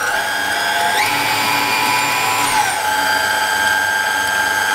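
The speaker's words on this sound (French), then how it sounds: "Maintenant on va pétrir pendant 10 minutes." Stand mixer kneading burger bun dough, a steady loud mechanical whir and grinding with rhythmic gear clicking, continuous and alone, with slight pitch shifts as the motor load changes.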